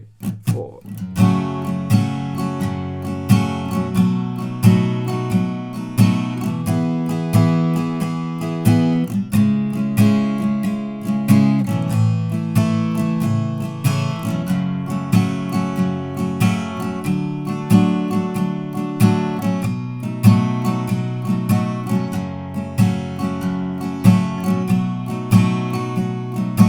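Acoustic guitar strumming the easy verse chords of a song, a steady, even rhythm of full chords throughout, close and moderately loud with no talking.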